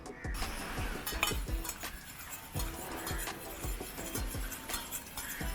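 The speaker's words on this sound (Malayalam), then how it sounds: "നന്നായിട്ടൊന്ന് ഇളക്കുക." A spoon stirs moringa leaf juice seasoned with salt, pepper and lemon in a glass, giving a steady run of light, close clinks and taps against the sides with a soft swirl of liquid beneath.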